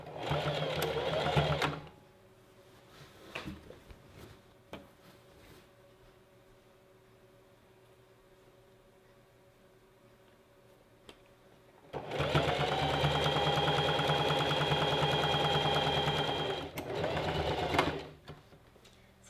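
Sewing machine stitching a one-inch folded hem along the bottom of a gathered maxi dress, two loud bursts of rapid whirring stitching separated by a long quiet pause with faint handling noises.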